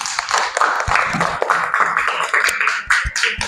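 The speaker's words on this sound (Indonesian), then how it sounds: "beri tepuk tangan untuk Kela." Pupils in a classroom clap for a classmate during a teaching lesson, a dense, fairly loud patter of hands with sharper individual claps standing out, continuing for a few seconds.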